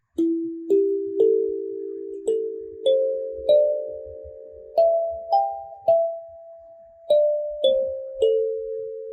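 Kalimba played as a slow sequence of single plucked notes, each ringing bright and then decaying, stepping up and back down in pitch, close and clear with no talk.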